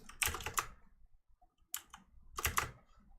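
Bursts of fast key clatter on a computer keyboard that has been in use for about two years, three quick flurries of clicks with short pauses between, close and fairly quiet.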